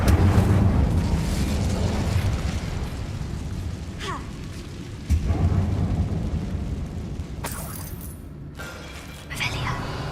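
The Incendio fire spell cast in Hogwarts Legacy, a loud rumbling burst with crackling bursts and sharp impacts, layered over heavy game background noise and music.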